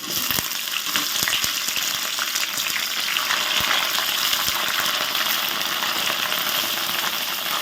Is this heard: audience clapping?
no